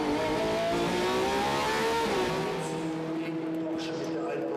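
A Ferrari 488 GT racing car with a new exhaust during a qualifying session at the Nürburgring, its engine howling loud and close with rising pitch, then receding into the distance.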